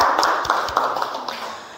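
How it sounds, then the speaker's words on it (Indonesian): An audience applauds a presenter at an academic session, a dense wash of many hands clapping steadily at moderate loudness without voices. "berikan tepuk tangan sekali lagi kepada presentator kami"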